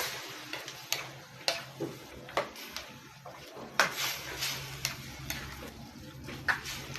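A spoon stirs pork menudo with dry lemongrass in a pan, giving repeated clinks and scrapes against the metal at an uneven rhythm over a faint sizzle.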